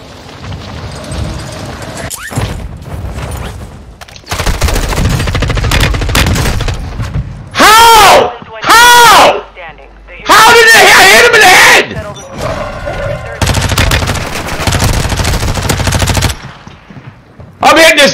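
Loud automatic gunfire in Call of Duty, bursts of rapid shots broken by short gaps and a few booms, close and dominant with a voice talking over parts of it.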